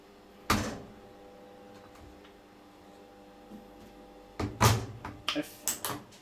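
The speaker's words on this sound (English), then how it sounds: "to open the door, you need to first power it on. You'll hear a buzz, a click," Creda Supaspeed 1150 washer dryer door lock: a single sharp click, then a quiet hum, followed by a cluster of several close clicks and clunks near the end of the clip.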